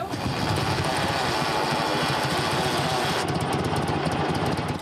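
A vintage WWII-era motorcycle engine runs steadily and close by, a dense, buzzing mechanical drone that holds at constant loudness throughout, with a faint rapid ticking texture in the upper range during the last seconds.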